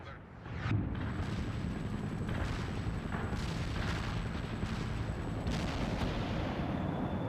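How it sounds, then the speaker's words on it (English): Artillery strike explosions in the video game World in Conflict roll as a continuous barrage of heavy, rumbling booms, starting abruptly after a brief quieter moment and sustaining dense, loud impacts with no voices. "The artillery strike."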